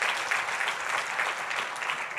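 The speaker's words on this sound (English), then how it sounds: "Please give a round of applause for Sheriff Gonzalez." Conference audience at a violence prevention general session applauds Sheriff Gonzalez, a loud, even roar of many people clapping that holds steady for a couple of seconds.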